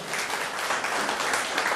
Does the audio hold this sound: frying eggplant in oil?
no